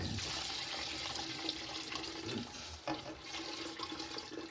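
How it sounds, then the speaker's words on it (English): Beef stock poured into a pot of collard greens, a steady close splashing pour running for several seconds before easing off. "And I'm gonna pour half of this in."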